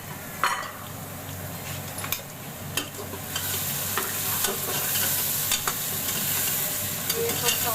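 Cumin and ginger-garlic paste fry in a pot for a mutton and bottle-gourd curry, with a constant close sizzle that swells midway, punctuated by sharp clinks and scrapes of a spoon against the pot.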